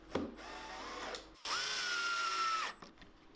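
A power drill drives screws to fix shelf plates onto a wooden camera display shelf, with two bursts of whirring, a short one and then a longer steady run, close and clear, with no talk.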